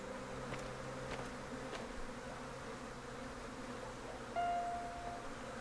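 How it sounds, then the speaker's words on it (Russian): Flies buzzing in the horror video game Maid of Sker, a faint steady insect drone with a few soft clicks over a low ambient hum, heard with no talking. "Чего тут так много мух?"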